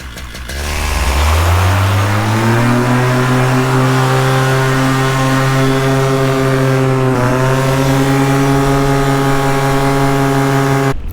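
A paramotor engine starts and revs up for a paraglider launch, its pitch climbing over the first few seconds and then holding a loud, steady drone with a brief dip midway.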